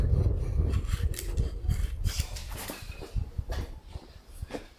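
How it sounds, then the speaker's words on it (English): Rough scraping and rasping as a Stanley knife trims overspilled glue off wooden parts of a van bed build, a steady run of short close strokes with no talk. "I'll just trim it off with a Stanley knife."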